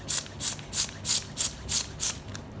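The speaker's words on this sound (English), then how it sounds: "We check the part that needs a little bit more spray, and we just spray that." Seven short, evenly spaced hisses of spray are applied to a 12-inch birthday cake, each a brief bright burst with small gaps between, followed by a quieter final puff.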